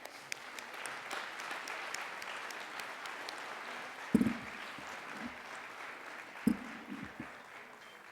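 Audience at a graduation ceremony claps in a sustained, moderately distant wash of applause, with a few louder thumps and handling bumps over the steady patter.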